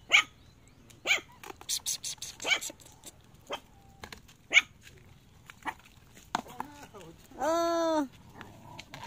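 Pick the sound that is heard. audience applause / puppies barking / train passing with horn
puppies barking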